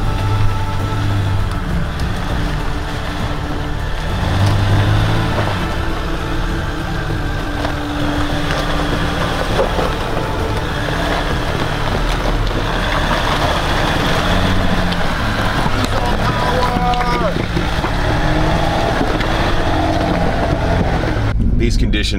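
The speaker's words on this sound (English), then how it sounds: "We're basically driving up a mountain on a sheet of ice with the occasional rock poking through the ice to give us traction." A Hemi Jeep Gladiator on 40-inch tyres climbs an icy mountain track with rocks poking through the ice. Its engine drones loudly and steadily at close range, with wind buffeting throughout.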